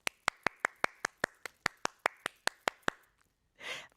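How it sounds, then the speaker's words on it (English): Sparse, evenly paced claps from a small audience at a Hall of Fame ceremony, about a dozen crisp hand claps in a steady rhythm that fade out, followed by a brief soft rustle. "let's give a round of applause to all of our honorees"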